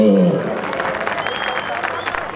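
Audience applause at a live mimicry comedy stage show, a dense, steady wash of clapping from a crowd that holds at an even level throughout, with a brief voice sound at the very start.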